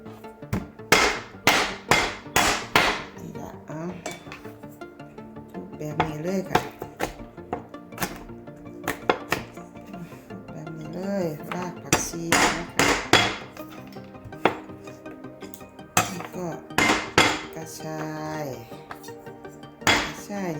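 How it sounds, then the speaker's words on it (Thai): Chili peppers pounded in a mortar for Thai khanom jin: repeated hard knocking thuds in uneven bursts with clinks, and someone talks over and between the strikes. "ทุบพริกด้วยค่ะเด้อ"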